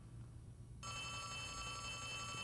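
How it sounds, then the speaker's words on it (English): Telephone ringing in the video game Poppy Playtime Chapter 3, a bright electronic ring that starts abruptly after a quiet moment and continues steadily, faint and alone. "We'll follow the phone sound."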